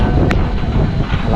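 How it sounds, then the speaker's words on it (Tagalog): Strong wind on a roof buffets the microphone in a dense, rushing roar that fills the short moment, loud and close. "malakas ang hangin"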